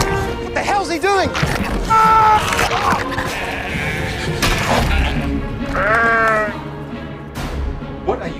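Several sheep bleat in wavering cries, some close and loud, over a busy, noisy background with voices, in a film trailer.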